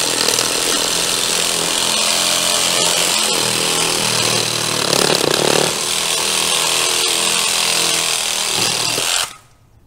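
A power saw rips through plywood in a steady, loud, continuous cut lasting nearly ten seconds, with slight shifts in load as the blade bites, then stops abruptly into near silence.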